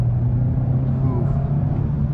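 A 2022 Kia K5 EX turbo engine accelerating on a test drive, a steady low rumble heard from inside the cabin, with the engine drone holding throughout.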